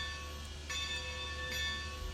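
Locomotive bell in the train game RailRoads Online, two bright metallic clangs roughly a second apart, ringing with sustained overtones over a steady engine hum.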